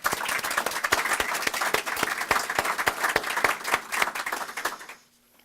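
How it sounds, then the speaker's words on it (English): Round of applause from an audience at a Western New York tourism institute event, dense steady clapping at full strength that cuts off abruptly near the end, leaving near silence. "We can all maybe give you a special round of applause for all that you've done"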